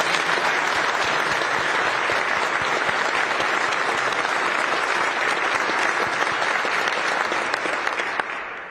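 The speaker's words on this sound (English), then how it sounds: "Let's give him a round of applause." Dense, continuous applause from a large audience at a White House meeting with the Saudi Crown Prince, loud and sustained, tapering slightly at the very end.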